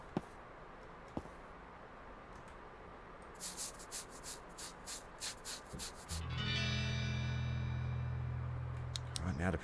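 Virtual sander working car bodywork in the game Car Dealer Simulator, with a pulsing run of short rasping strokes midway, then a louder, steadier sustained buzz to the end.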